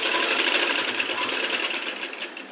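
A sewing machine runs a fast, continuous stitch along the shoulder seam of a child's Punjabi dress top, a close, buzzing whir that eases slightly toward the end.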